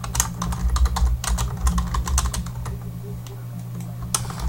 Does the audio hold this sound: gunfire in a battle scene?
no